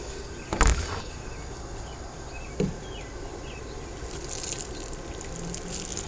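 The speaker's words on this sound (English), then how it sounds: "I'm gonna rinse my hand off this water." In a home kitchen, someone cooking fried green tomatoes rinses a hand under running tap water. A quiet, steady stream of water with a couple of faint knocks.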